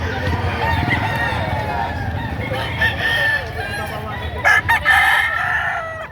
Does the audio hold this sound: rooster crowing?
yes